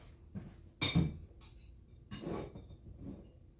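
Cutlery clinks as a knife is grabbed during home cooking: a sharp metallic clatter near the start, then a second softer rattle of utensils, close and quiet with no talking.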